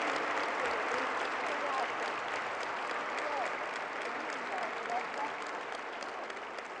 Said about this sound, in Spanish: un fuerte aplauso, un agradecimiento por su presencia